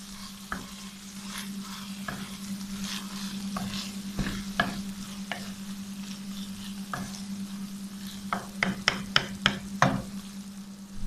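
Aloo matar keema with green chillies and chopped coriander being stirred in a pan, with a steady low sizzle under repeated scraping and clinking strokes of the spoon, closer and quicker toward the end.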